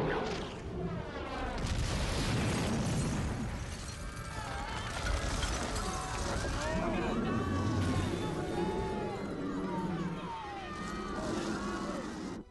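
Missiles explode and roar in a Korean creature action movie battle scene, a loud, sustained rumbling barrage with whooshing, wavering tones and voices mixed in.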